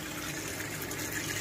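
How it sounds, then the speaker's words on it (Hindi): Water draining out of a washing machine after a wash cycle of clothes, a steady continuous gushing and rushing of liquid that stays even and fairly loud throughout, with no voices. "चलो कपड़ों का पानी निकाल लो।"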